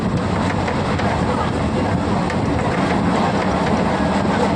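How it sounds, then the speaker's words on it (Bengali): A passenger train rolls through open fields toward Tarakeswar, heard as a steady, loud rumble of wheels and carriages that holds constant for the whole stretch with no pauses. "ট্রেনে চলছে মাঠের মাঝখানে"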